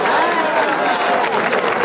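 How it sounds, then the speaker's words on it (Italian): A crowd in a town square at an international folklore festival breaks into loud applause, with dense clapping mixed with some cheering and crowd noise. "ti faccio fare prima un applauso perché abbiamo una piazza bellissima"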